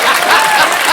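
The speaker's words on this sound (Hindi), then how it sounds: "साइना के लिए जोरदार तालियां" A studio audience on a comedy talk show breaks into brief, loud applause for Saina, a dense burst of clapping lasting about a second.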